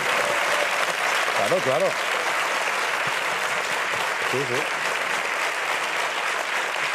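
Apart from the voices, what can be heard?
applause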